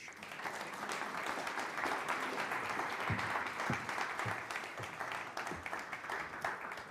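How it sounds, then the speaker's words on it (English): An audience at an FIS Alpine race talk event in Soelden applauds continuously for several seconds, an even, fairly soft wash of clapping with a few low thumps and no speech. "Ladies and gentlemen, please give a round of applause for Mr. Johan Elias."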